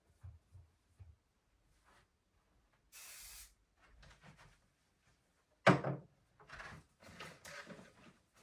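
Wood polish is sprayed from a can in one short, soft hiss, surrounded by quiet household handling sounds and light clatter at a dressing table.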